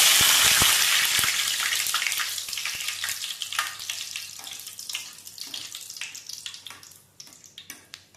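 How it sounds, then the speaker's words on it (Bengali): A loud hiss of dried chillies and curry leaves frying in hot oil starts strong and gradually dies down, with scattered crackles and pops continuing as it fades. "এরপর এই তেলে শুকনো লঙ্কা আর কারি পাতা ভেজে তুলে নেব।"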